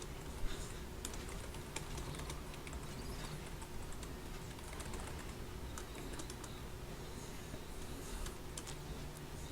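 Quick, steady clicking of keys on a computer keyboard runs the whole time over a constant background hiss, with no talking.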